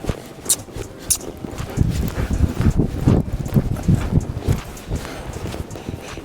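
Hooves of a young two-year-old stallion thud and clop irregularly on the ground of a small round pen, fairly close, with some wind buffeting the microphone.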